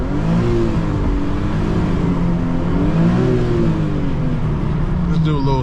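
An Infiniti car engine revving while driving on coilovers, a loud, sustained engine drone with rising and falling pitch as it accelerates, close and continuous, with a brief higher whir near the end.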